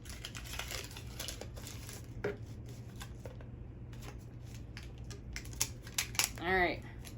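A homemade rain stick filled with foil and beans being tipped, giving a soft, continuous rattling patter of tumbling beans with a few brief louder clicks, plus faint voices.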